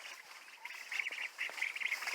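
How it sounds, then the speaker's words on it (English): Indian runner ducks at a small hillside pond on a homestead give a run of soft, repeated quacks, fairly close and moderately loud, with no talk over them. "We got these little Indian runner ducks."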